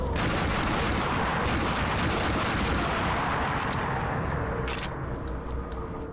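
Shotgun blasts from a wall-bought gun in Black Ops III custom Zombies, loud and dense, rapid firing that merges into a continuous roar of gunfire with no talking.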